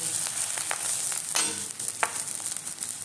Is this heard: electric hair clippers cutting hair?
no